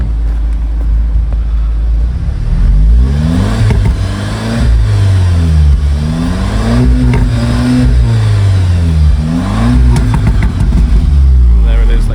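A 2018 VW Golf R with a 2.0 TSI engine, DSG gearbox and 4Motion revving repeatedly up and down, loud and close, with exhaust crackles and pops between rises.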